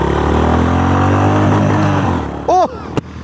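A Honda GB350S motorcycle engine drones loudly and close as it pulls away, its tone rising slightly before fading out. A brief chirping sound and a sharp click follow.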